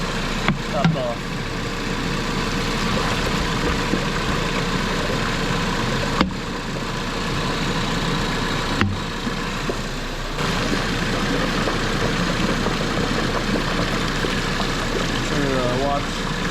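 A car engine idles steadily during a cooling system radiator flush, a low continuous hum with a few sharp clicks and knocks on top, heard close in a garage.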